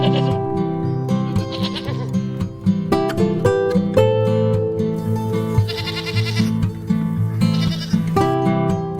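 Goats bleat repeatedly inside a barn, overlapping calls rising and falling close by, with several animals answering one another at a moderate level and no voices.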